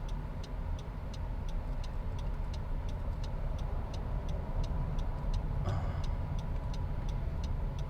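Inside a 2020 Honda CR-V Hybrid driving on an expressway in EV mode, a steady low road and motor hum fills the cabin, with a faint regular ticking, likely the turn signal, repeating throughout.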